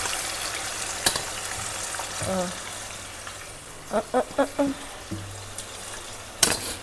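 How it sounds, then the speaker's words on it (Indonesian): Tofu fries in hot oil with a steady soft sizzle, broken by a few sharp clinks and scraping utensil knocks in the pan. "Sekarang waktunya untuk kita menggoreng tehu."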